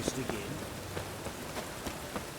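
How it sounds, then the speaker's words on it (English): Steady rain falls in The Witcher 3: Wild Hunt, a continuous wash of drops with faint scattered patters throughout, moderately quiet and without voices. "It's a nice rainy day outside."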